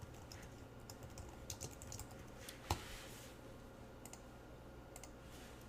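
Quiet keystrokes on a computer keyboard while JavaScript code is typed, a scattered run of light clicks with one sharper tap midway, no talking.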